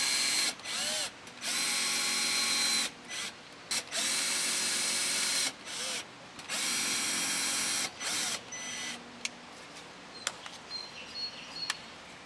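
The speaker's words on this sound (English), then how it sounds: "I just screwed that to the wall with the drill on the lowest torque setting" An electric drill on its lowest torque setting drives screws to fix an external electrical socket to a wall, in several loud whirring bursts of a second or two with short pauses, then quieter clicks and handling.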